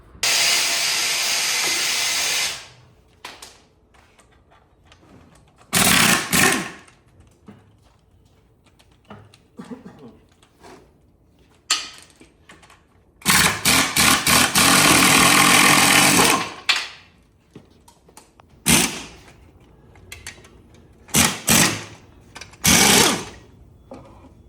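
Pneumatic impact wrench driven by a compressor, loosening bolts to separate a GM LS4 V8 engine from its subframe: several loud, sustained rattling bursts of a few seconds each, separated by quieter pauses with shop noise.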